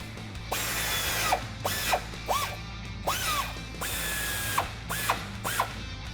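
A ratchet with a 14mm socket tightens nuts on factory studs while a stainless steel bull bar is fitted to a 2016-2019 Toyota Tacoma. Short bursts of rapid clicking repeat in a steady rhythm, close and clear.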